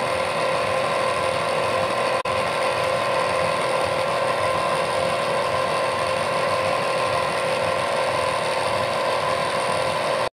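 An electric mixer whirring steadily as it blends cake batter with powdered milk for a short cake, a loud, constant mechanical drone with a faint rattle, running alone without pause apart from one tiny click.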